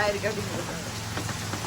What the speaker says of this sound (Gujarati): આવો કઈક વરસાદ આવે અત્યારે તો